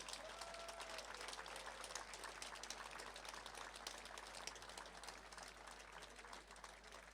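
Sustained crowd applause at a political rally in Kumanovo, a broad steady wash of clapping held at an even level throughout without breaks.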